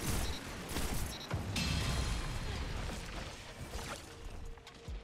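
Grenades exploding in Destiny 2 amid rapid gunfire, a loud, busy stretch of bursts and crashes with sharp transients, strongest at the start and easing off toward the end.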